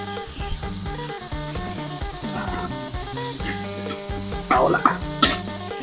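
Canned fish sizzles and fries in a hot pan for a Shan-style noodle sauce, a steady crackling hiss broken by sharper spatters and stirring scrapes, close and continuous.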